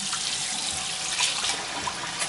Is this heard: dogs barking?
no